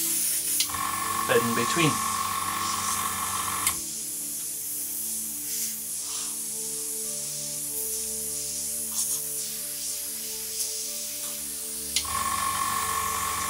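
A Sparmax Max-4 gravity-feed 0.4mm airbrush sprays in a steady, fine hiss that runs in long bursts and stops in between, with someone talking over it.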